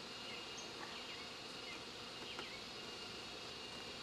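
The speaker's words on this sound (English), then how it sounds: "there's a lot of bees in here." Dense, steady insect hum of many honeybees in a busy bee yard, a continuous close drone at an even level throughout, with no voices.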